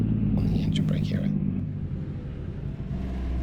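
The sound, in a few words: truck engine brake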